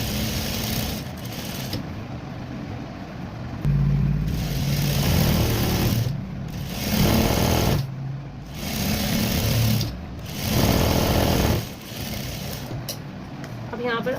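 A sewing machine stitches the neckline of a suit, running in several long steady whirring bursts separated by short pauses, close and clear.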